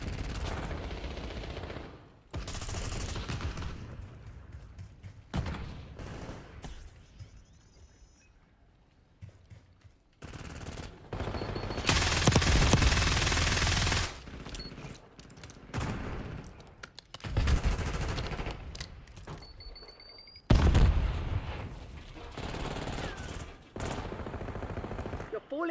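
Video game gunfire crackles in repeated bursts of rapid automatic shots with quieter gaps between them, while a player talks excitedly over the action.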